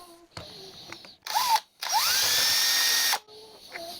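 A power drill bites into a spinning rivet in short bursts: two brief whirs, then a longer sustained whine lasting over a second, with quieter handling noise between the runs.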